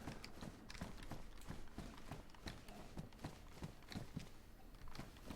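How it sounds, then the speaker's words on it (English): Zombie footsteps in DayZ, a steady run of quick, dull thudding steps close by over a constant noisy game background. "I can hear footsteps, but I think it's a Z."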